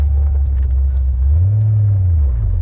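A Mustang convertible drives over bumps, its low engine and road rumble steady and close throughout, with no voices.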